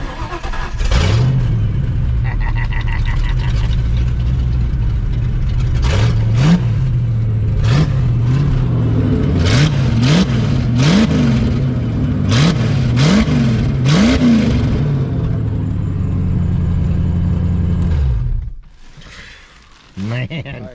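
A brand new car engine runs with a steady low drone and is revved repeatedly in a series of sharp rising and falling bursts. It then cuts off abruptly near the end.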